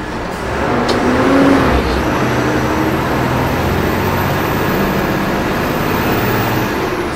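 A state transport bus with a BS6 diesel engine pulls hard up an uphill grade, its steady loud engine drone and road rumble continuous throughout, with a brief hiss near the start.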